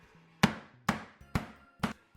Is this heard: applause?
no